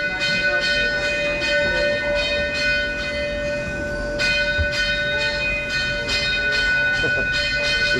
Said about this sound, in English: With this bell ringing.